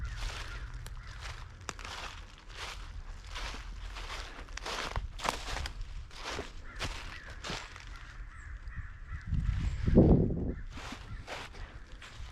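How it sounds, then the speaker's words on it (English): A crow caws repeatedly outdoors in nature, a run of loud, evenly spaced harsh calls fairly close by, over faint ambient noise with a brief rustle of footsteps near the end; no talking. "I hear Mr. Crow. Boy, he's really chatting it up."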